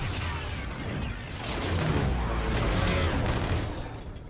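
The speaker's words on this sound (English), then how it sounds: "It literally sounds like a shotgun." Heavy, continuous burst of gunfire in Call of Duty: Infinite Warfare, a gun that booms like a shotgun, with dense overlapping shots and rumbling low end sustained loudly throughout.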